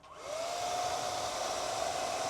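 A hair dryer blows inside a Musso Zeus camper, a steady whooshing roar with a faint high motor whine that starts abruptly and holds evenly at close range.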